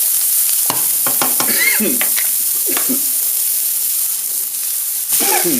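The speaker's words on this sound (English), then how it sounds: "In with all our aromatics, okay? Give that a stir around." Aromatics stirred in a smoking-hot pan give a bright, steady sizzle, with a spatula scraping and clacking against the metal in bursts near the start and again at the end.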